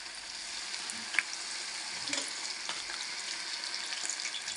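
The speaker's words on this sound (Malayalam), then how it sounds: "കുറച്ച് കുരുമുളക് പൊടിയും ചേർത്തിട്ട് നന്നായി ഇളക്കി യോജിപ്പിക്കാം." Spices stirred into a hot frying pan, including turmeric, garam masala and pepper powder, sizzling softly and steadily, with light scraping and a few taps of a spoon against the pan, fairly quiet and close.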